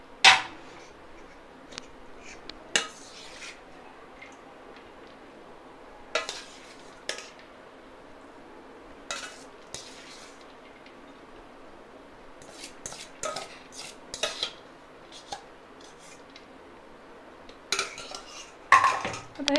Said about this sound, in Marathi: आता हे छान मिक्स करून घेऊया.